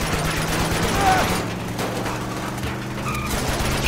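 Gunfire in Uncharted 2 during a house-to-house fight against pirates: rapid automatic bursts and shots crackling over game sound effects and background noise, loud and dense at first, then thinning out.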